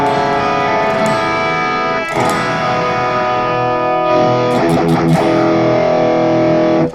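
Distorted electric guitar plays a quick blues run, bright sustained notes with a couple of sharp picked attacks and a clipped ending.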